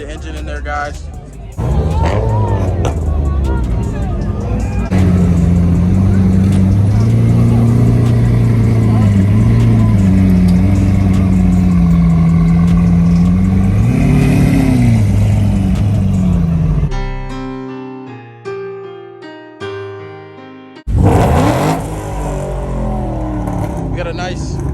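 A Lamborghini SV engine revs hard at a car meet, a loud sustained roar with rising pitch swells, cut by a brief quieter gap before another burst; people talk over it.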